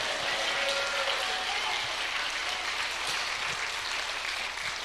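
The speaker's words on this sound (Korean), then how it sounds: "If you believe, clap your hands to Jesus." A church congregation claps their hands in worship during a bilingual service, a continuous wash of applause filling the room at fairly low level with faint voices mixed in.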